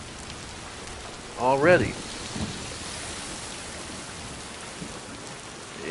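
Steady timefall rain pours across the whole scene in the video game Death Stranding 2, a dense hiss with a low rumble of thunder, while a voice briefly speaks over it.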